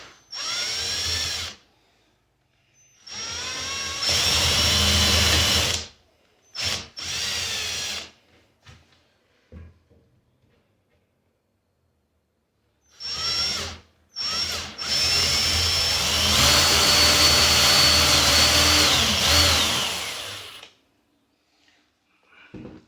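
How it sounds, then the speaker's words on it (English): A power drill bores into pre-drilled holes while a walk-in wardrobe is being built, heard close and loud in several separate whining bursts of varying length with quiet gaps and small knocks between them. "with the same size bit, just going to go into the holes where I've already drilled"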